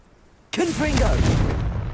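Confringo fire-blast spell cast in the PS5 game Hogwarts Legacy, a sudden loud booming burst that leaps out of near-silence and rolls on as a sustained crackling roar, with a voice over it.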